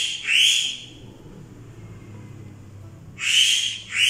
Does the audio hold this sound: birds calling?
yes